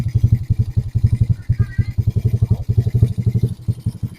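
A Motoposh Wave Style motorcycle, a stored bike that had stopped running, chugs in a steady rapid idle-like pulsing rhythm, loud and close, with no talk over it.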